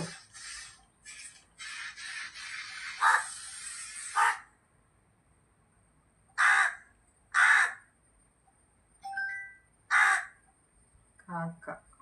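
Loud, close crow caws come in short harsh bursts, repeated several times with pauses between them, after a stretch of rustling noise.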